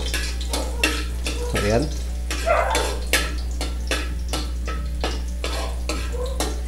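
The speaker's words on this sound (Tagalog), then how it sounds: "Ngayon, igigisa muna natin itong bawang at sibuyas." Garlic sautéing in a hot pan for a Filipino kangkong and sardines dish, a steady close sizzle broken by repeated scrapes and stirs of a utensil, with a voice speaking over it.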